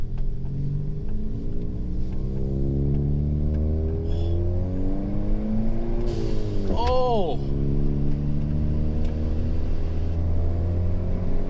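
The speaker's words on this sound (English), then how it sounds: "Oh man, this car sounds so good." A rebuilt Ford Fiesta ST engine drones and revs while driving, pitch rising and falling through the gears, with a brief exclamation from a voice over the engine.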